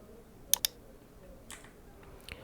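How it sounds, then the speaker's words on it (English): A computer mouse gives two quick, crisp clicks close to the mic while the go live button is pressed, followed by fainter faint taps over low room noise. "Now just clicking on go live."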